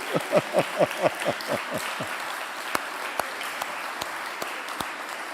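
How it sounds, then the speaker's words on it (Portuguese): A church congregation applauds in a burst of rhythmic claps that fade within a couple of seconds, leaving room tone and a few scattered, sharp single claps. "Aplaude a igreja, aplaude a igreja."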